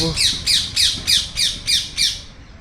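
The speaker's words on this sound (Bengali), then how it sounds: "চতুর্দিকে ময়ূর ডাকছে" A peacock calls seven times in quick, evenly spaced succession, each a loud, harsh, rising squawk, outdoors in the Vrindavan and Mathura area, with no talking over it.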